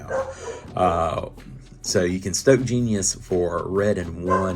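A dog barks indoors in the background, its sharp yips and barks breaking through under a man's steady, close talking.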